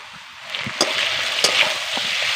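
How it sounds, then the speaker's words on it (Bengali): Ridge gourd and potato sauté in a hot pan, giving a steady close hiss with a few soft scrapes and knocks from stirring, alone. "এবার কিছুক্ষণ ধরে আমি কষিয়ে নেব"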